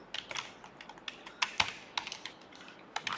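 Rapid, uneven keystrokes clatter on a computer keyboard while Python input is typed in, a close, steady run of light clicks with a few heavier taps and no voices.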